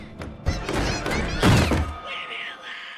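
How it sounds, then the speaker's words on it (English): Heavy thuds of banging on a locked bedroom door at night, several dull knocks in quick succession, loud and close, fading toward the end. "Not long after, the banging stops, but Emily begins hearing noises coming from"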